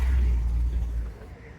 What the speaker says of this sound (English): Sounds like a big early 70s Chevy, Joel.